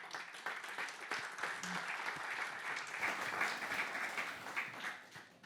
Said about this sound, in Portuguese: Jaime Quezado, um aplauso, por favor